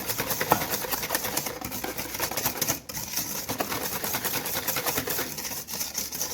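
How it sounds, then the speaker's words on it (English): An electric mixer whisks eggs into creamed butter and sugar for butter cookie dough, giving a steady, continuous whirring and rattling drone with no talking. "And we're going to whisk it."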